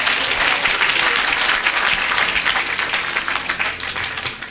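A church congregation breaks into dense, sustained applause, many hands clapping at once in a loud, continuous wash that tapers slightly toward the end.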